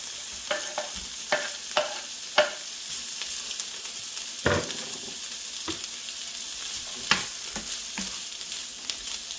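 Pre-cooked sausages and turkey breast brown in a pan over medium heat. A low continuous sizzle is broken by irregular clacks and scrapes of a utensil turning the meat, close up and with no speech.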